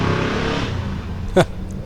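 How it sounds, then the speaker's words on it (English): A truck goes by in the background outside during car detailing, its exhaust a low, steady engine rumble with a brief sharper burst near the end. "Sorry about the exhaust in the background. Some truck went by."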